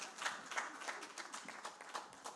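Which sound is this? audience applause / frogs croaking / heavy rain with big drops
audience applause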